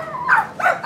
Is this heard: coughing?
no